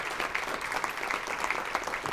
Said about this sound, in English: Can we have one more round of applause for our panelists today?